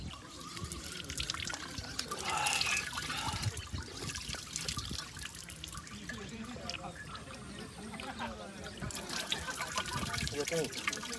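Cold mountain water flowing and trickling somewhere in Wakayama, Japan, a steady broadband wash that runs the whole time beneath people talking.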